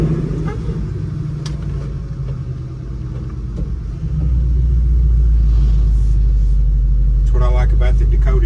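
A 1967 Ford F100 pickup with a Coyote V8 engine starting up. A low rumble swells at about four seconds into a loud, steady running idle, with a brief vocal sound near the start.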